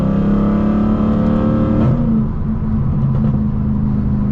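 A Mercedes C63 AMG engine drones loud and close, then the note drops on a downshift, followed by a low rumble with scattered faint exhaust crackles.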